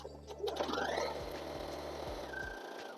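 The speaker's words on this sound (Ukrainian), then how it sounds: "Я шила трикотаж." A Bernette sewing machine fitted with a special presser foot and a universal needle stitches knit fabric, giving a steady close mechanical whir with a faint rhythmic low thumping.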